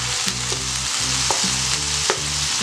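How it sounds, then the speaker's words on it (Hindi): Garlic paste sautés in a hot pan for chana masala, with a continuous sizzle and rhythmic spoon strokes scraping the pan every half second or so, close and fairly loud. "1 चम्मच के बराबर की लहसुन की पेस्ट। इसको अच्छी तरह से सोते कर लेते हैं।"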